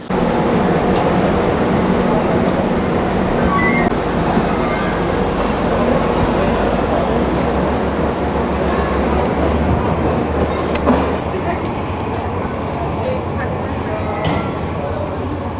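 Passenger train departing Malatya station after a long break in service, a continuous rumble and rattle of wheels on track with clanks and station noise, steady and fairly loud throughout.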